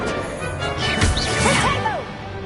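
Spell effects in the Hogwarts Legacy video game: a whooshing cast followed by a crackling burst and swirling, rising and falling magical tones, loud and close, over a faint game backdrop with no talking.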